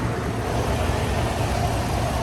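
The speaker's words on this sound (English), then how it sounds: "Got the truck running." A 2014-2018 Chevrolet Silverado with the 5.3L engine idles nearby just after a radiator and transmission cooler install, giving off a continuous, even low rumble with a steady broadband hum and no pauses.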